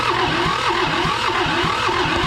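A John Deere 650 tractor engine, left sitting for over 15 years and now smoking with heavy blow-by, runs loud and rough up close in a steady, uneven chug.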